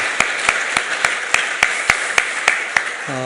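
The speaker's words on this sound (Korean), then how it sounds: "우리 한번 박수 한번 해주시면 좋겠어요." A church congregation at a Sunday service claps in unison: about ten sharp, evenly spaced claps in a steady rhythm, loud and close, ending with a brief tone.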